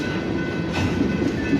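A BNSF mixed freight train rolls past on the rails, a close, steady rumble with clattering wheels and a metallic ring, heard without voices.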